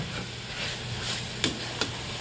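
Smoked Gouda cheese sizzles on a hot griddle with a steady, close frying hiss and two brief sharp crackles near the end, no talking.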